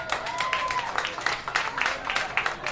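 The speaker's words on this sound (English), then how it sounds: "let's give them a round of applause" Audience at a community village festival giving a round of applause, dense clapping and some crowd noise mixed with faint background voices.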